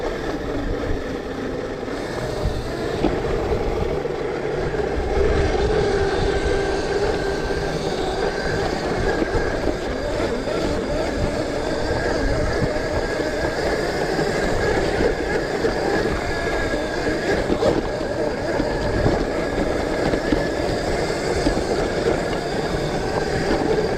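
A mini electric motorcycle rides along dirt trails, producing a steady, loud rumbling drone with wind and rolling rattle that continues without a break, and no voices are heard.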